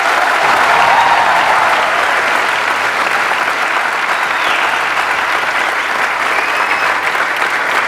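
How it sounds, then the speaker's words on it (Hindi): Audience at a motivational stage talk bursts into sustained, loud clapping, a thick unbroken wash of hands that holds steady throughout. "एक लेवल है तालियों का"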